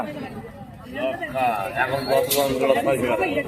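Pigeons coo in low, soft bursts at a busy animal and bird market, the calls mixed into steady crowd babble while people talk and bargain close by.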